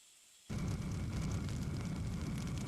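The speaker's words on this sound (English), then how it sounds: "I hear an explosion in the distance and the ground shakes" A distant explosion in a video game story: a sudden broadband boom starts abruptly and gives way to a sustained, loud rumbling roar that fills the rest of the clip with no talking.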